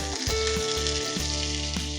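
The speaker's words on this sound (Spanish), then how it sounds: "Le vuelvo a prender y seguimos friendo las tortillas." Tortillas frying in oil in a pan with chiles, a steady continuous sizzle close up, with faint stirring and scraping, no talk, while making mole from scratch.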